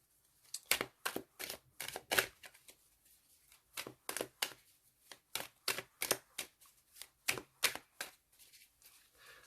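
Tarot cards are shuffled close up in a quiet room, producing rapid riffling bursts of crisp flicks in irregular clusters, each burst lasting a fraction of a second, with no talking.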